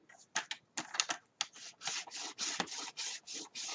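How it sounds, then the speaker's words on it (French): A sheet of paper for an accordion photo album is creased and folded, giving a series of short, close rubbing and scraping strokes in quick irregular bursts. "Vous allez faire un premier pli"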